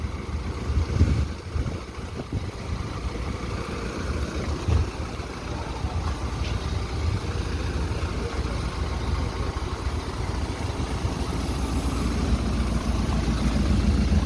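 A steady, low engine rumble from a medium-sized bus idling at a bus terminal, droning continuously at constant loudness with no talking.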